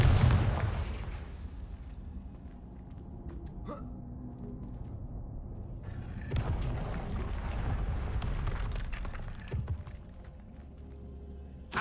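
A Confringo explosive spell blast going off in Hogwarts Legacy on PS5, a heavy low boom at the start followed by rumbling debris and a second swelling burst midway, with game ambience around it.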